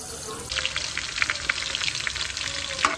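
Garlic and onion sautéing in a home kitchen pan, with a steady bright sizzle that starts abruptly and crackles continuously, close and fairly loud, with scattered pops.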